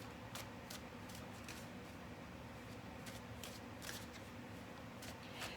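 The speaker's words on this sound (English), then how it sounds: "let's go ahead and get into bottom of the deck as I begin to shuffle" A deck of tarot cards is shuffled close up in a quiet room, a steady run of soft riffling and sliding with sharp card snaps every half second or so, very faint and with no talking.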